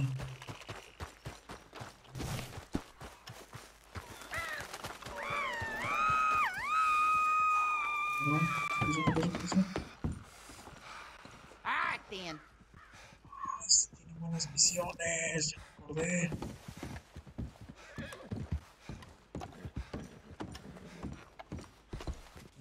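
Horse hooves clip-clop in the Red Dead Redemption 2 video game amid a busy game soundscape, with a short neigh-like whinny partway through and someone talking intermittently over it.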